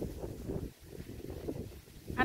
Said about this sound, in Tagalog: Sobrang hangin ngayon.